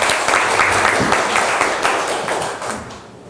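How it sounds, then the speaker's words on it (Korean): An audience at an international conference claps to welcome a presenter, a loud, steady wash of many hands that slowly fades out over a few seconds. "여러분들 힘찬 박수로 맞아주시면"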